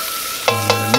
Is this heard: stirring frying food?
yes